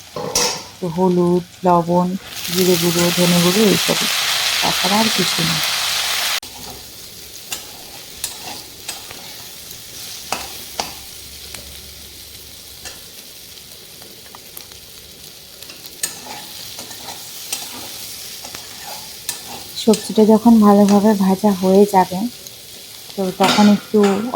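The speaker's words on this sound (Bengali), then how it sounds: "তো এখন প্রথমে আলু চিড়ি একটু ভেজে নেব ভালো করে" Potatoes fry loudly in a pan, a bright sizzle with repeated spatula scrapes and clacks against the pan, fading to quieter stirring before the sizzle swells again near the end.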